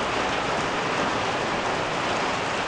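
Steady rain falls with a dense, even hiss that stays loud and constant throughout, with no voices.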